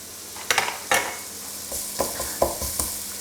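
Garlic sizzles as it fries in a casserole pot for oxtail and cannellini bean stew, with a handful of sharp stirring scrapes and clinks breaking through a steady, moderately loud frying hiss.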